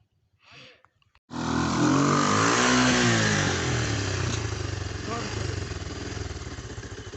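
Struggling engine revving loudly and roughly, close by, running continuously after a short burst of speech, with its pitch wavering as it labors.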